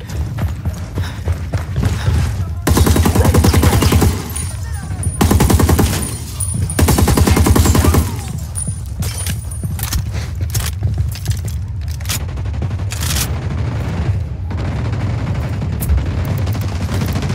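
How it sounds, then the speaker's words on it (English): Gunfire rings out in the video game Ghost Recon Wildlands, with sustained loud automatic bursts in several long stretches and sharper single shots between them, set against continuous in-game background noise. "Opening fire."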